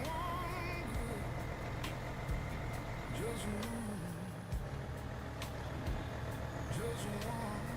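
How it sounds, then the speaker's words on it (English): A Mercedes-Benz Actros truck drives in the SnowRunner video game with a steady low diesel engine drone and occasional hissing air-brake releases and short clunks. A faint background voice is also present. "This is the Mercedes-Benz Actros."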